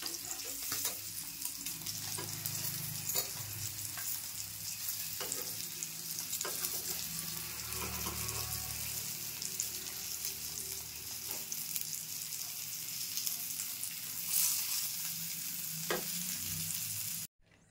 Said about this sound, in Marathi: आता ना परतून घेते.